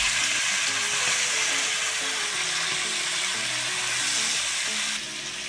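Dried fish and tomato pieces fry and sizzle in a pan for a curry while being stirred, a steady close hiss with soft scraping and stirring knocks running throughout, with no talking.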